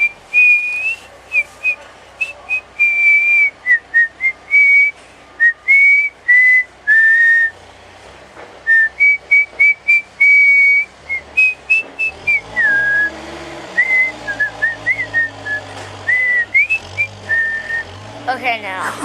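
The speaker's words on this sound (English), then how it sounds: "Do you know how hard it is to whistle? Like that?" Someone whistles a cheerful melody in short bright phrases, close and clear, with brief pauses between them, while a person talks faintly in the background near the end.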